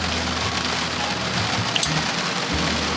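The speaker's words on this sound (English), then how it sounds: "it's raining and it sounds so good" Steady heavy rain pours down outside, a dense, even wash of drops pattering on surfaces with no break, close and fairly loud, and no one talking.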